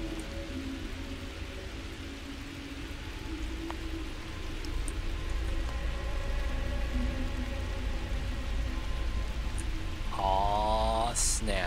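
Rain in the survival game The Tribe Must Survive, a steady hiss of rainfall throughout with faint tonal game sounds and a rising warble near the end.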